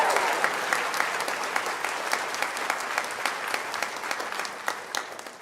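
A large crowd of class of 2020 graduates at a Liverpool University ceremony in 2022 gives steady, dense applause throughout, with sharper individual claps standing out near the microphone.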